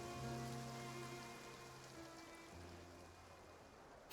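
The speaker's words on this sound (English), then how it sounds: "It rained for longer than I suspected." Rain falls steadily in the Genshin Impact video game, an even patter on surfaces with soft game music tones humming beneath it. No voices are heard.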